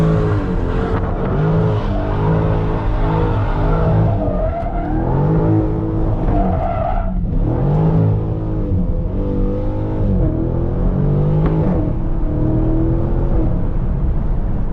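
A 2023 Dodge Charger Scat Pack Widebody does donuts on the street, its engine revving hard and continuously with rising and falling pitch, loud and close, with tire squeal mixed in.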